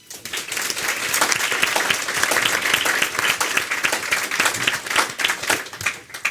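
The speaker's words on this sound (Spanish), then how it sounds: "Carlos Rodríguez Brown, para el que pido un aplauso, por supuesto." An audience at a debate on the liberal free-market economic model applauds steadily and fairly loudly for several seconds before the clapping thins out at the end.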